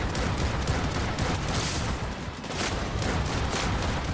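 Dense sustained gunfire from Cyberpunk 2077 Phantom Liberty, a continuous roar of rapid shots and blasts with a brief dip midway, loud and without pause.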